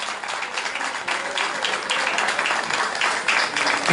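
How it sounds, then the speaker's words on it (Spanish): Audience applause at a traditions event in Loíza, Puerto Rico: dense, steady clapping from a crowd holding at an even loudness for several seconds, with no distinct voices. "El aplauso fuerte para José Emanueli Nater."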